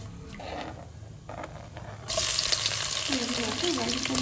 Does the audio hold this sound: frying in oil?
yes